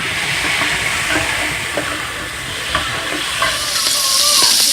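Shrimp frying in a pan without olive oil, a steady crackling sizzle with occasional scraping stirs and light clicks, close and fairly loud.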